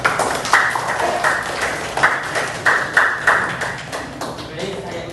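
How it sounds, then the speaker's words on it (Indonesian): Classroom applause from students in an Indonesian microteaching lesson, a short burst of hand claps with rhythmic sharp slaps repeating through the clip, moderately loud and close. "Kita beri aplaus untuk kita semua."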